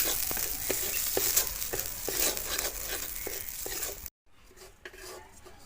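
Rice for payesh frying lightly in a pan with a soft steady sizzle and regular ladle scrapes and taps, close up, ending abruptly into a quieter stretch.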